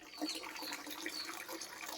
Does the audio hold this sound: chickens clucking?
no